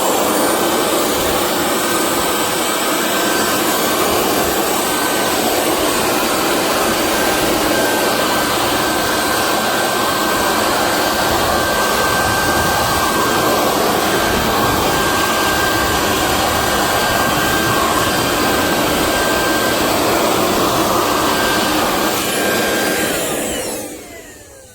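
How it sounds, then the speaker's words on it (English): A power sander runs continuously, loud and close, with a steady high whine as it works over holes in the gelcoat deck of a houseboat, winding down at the end. "Fixing to sand them holes over there."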